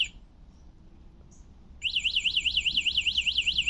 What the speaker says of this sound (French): Oh, l'alarme.